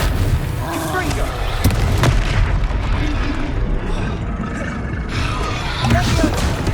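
Blasting spell explosions cast in the Hogwarts Legacy video game boom repeatedly, loud and rumbling, layered over continuous game sound.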